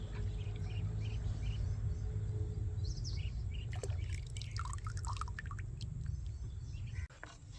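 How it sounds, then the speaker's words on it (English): Compost tea poured into a garden bucket, making a steady liquid rush with some dripping, while birds chirp and tweet nearby outdoors. "Then, add 3 liters of compost tea, which is an excellent source of nutrients and microorganisms."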